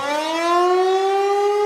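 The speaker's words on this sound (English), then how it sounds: "the next thing you know, you hear a tornado siren" A tornado siren wails steadily, a loud rising electronic tone with strong harmonics held without a break, nothing else heard alongside it.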